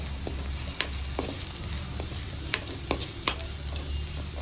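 Liver fry seasoned with turmeric, chilli, pepper and garam masala stirred in a pan: a soft steady sizzle with several sharp spoon scrapes and clicks against the pan, close and with no talking.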